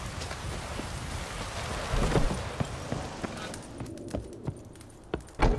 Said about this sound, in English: Rain in fucking buckets.